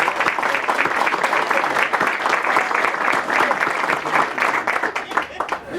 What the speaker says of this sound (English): I think that announcement deserves another round of applause.